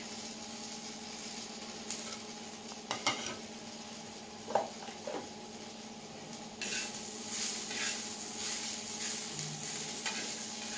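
Roasted green chillies being stirred with garlic and salt in a pan after the heat is off, with soft scraping and clinking of a spoon against the pan, light residual sizzle and a few sharper knocks.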